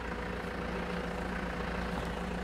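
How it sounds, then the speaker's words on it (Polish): An orchard tractor's engine runs at a steady low idle, a continuous rumbling drone heard at moderate distance without any change in pitch. "Ciągnik już chodzi"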